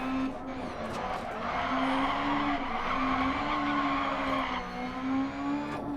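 A Clio S1600 rally car at Lydden Hill in DiRT Rally revs high through a corner, its engine drone steady and loud with a continuous tyre squeal and skid running alongside for the whole stretch.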